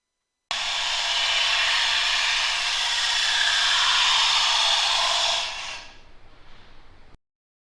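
Detail bowl gouge cutting a small segmented wood vessel with veneer layers on a lathe, a loud steady broadband hiss of shaving lasting about five seconds before tapering off into fainter scraping.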